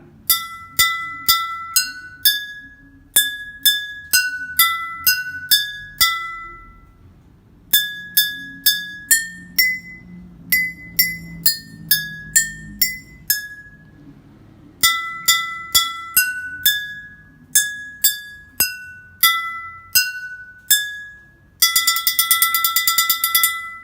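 Bright glassy tones from water-tuned glass bottles struck one at a time in quick melodic runs with pauses between phrases, ending in a rapid shimmering trill; clear and close, no voices.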